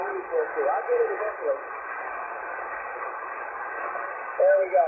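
Yaesu FT-991A transceiver receiving a narrow-band, hissy voice transmission with noise reduction switched on, the speech coming through thin and fairly faint over background noise.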